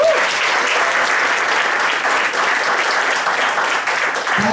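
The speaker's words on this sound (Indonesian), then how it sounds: "Tepuk tangan sekali lagi buat Prudential." Loud, sustained applause from a crowd, dense clapping throughout without pause, no speech over it.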